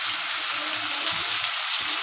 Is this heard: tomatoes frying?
yes